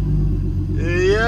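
A turbocharged BMW M50 engine in an E30 idles up close with a smooth, steady low rumble. Near the end of the short burst, a brief rising tone sits on top of it.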